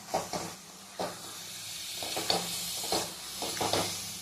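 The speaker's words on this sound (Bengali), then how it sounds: "আর একটুখানি নাড়বো, তাহলে আমি নামিয়ে নেব।" A thick mango sweet mixture for laddu is stirred in a pan over the gas, giving several distinct scraping strokes spaced about a second apart over a soft steady sizzle, close and fairly quiet, with no talking.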